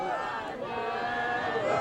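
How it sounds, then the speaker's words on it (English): New Year's crowd gathered on the esplanade by Edinburgh Castle, a distant, low-level wash of cheering and chatter from many voices, steady and diffuse throughout the short stretch. "This is the crowd up on the esplanade by Edinburgh Castle."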